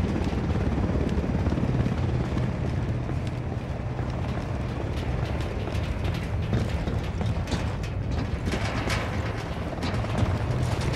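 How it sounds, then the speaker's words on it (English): A helicopter in Ghost Recon Wildlands drones steadily with a loud, continuous rotor chop and mechanical whine throughout, close and unbroken, with no voices over it. "Chopper, hit the dirt."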